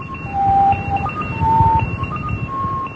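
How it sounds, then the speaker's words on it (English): A shortwave number station sends Morse code as steady beeping tones that switch on and off in dots and dashes over a constant hiss of static. "There's the ones that transmit in Morse."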